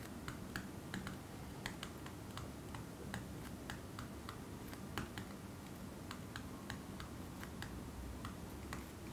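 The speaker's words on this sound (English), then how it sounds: "let's do some handwriting tests to see how accurately the M Pencil can capture my" A Huawei M Pencil stylus writes on a Huawei MatePad Pro tablet screen, giving quiet, sharp plastic taps and ticks in an irregular rhythm, with no talking.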